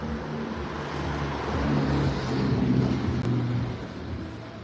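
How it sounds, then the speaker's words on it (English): Street traffic rumbles steadily as cars pass along a city street, a continuous broad roar that swells and eases with no voices present. "There are noisy cars."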